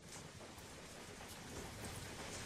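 Steady rain falls in a town setting as a soft, even hiss of drops, quiet and continuous with no voices.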